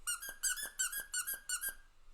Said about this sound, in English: he would always be stepping on squeaky toys